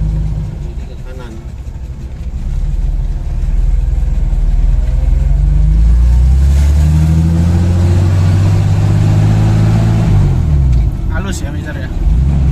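An old, extremely modified Toyota Land Cruiser FJ40 engine rumbles and revs loudly during extreme off-road driving, a deep continuous drone that swells and eases over twelve seconds.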